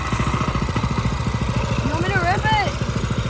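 A small go-kart engine revs hard nearby, a loud rough pulsing drone that rises in pitch, with people talking over it.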